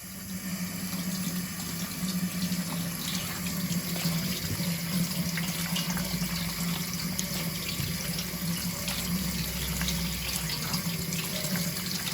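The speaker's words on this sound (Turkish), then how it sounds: "Şimdi onları güzelce bir yıkacak." Tap water runs steadily into a sink as finely chopped ingredients for Elazığ gömbe are rinsed, a constant close splashing rush with no talk.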